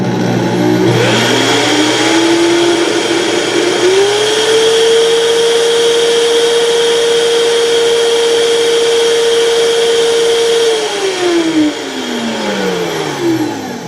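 A Vitamix blender ramps up from low to full speed, a loud steady whine that rises, holds for several seconds at its peak, then winds back down near the close.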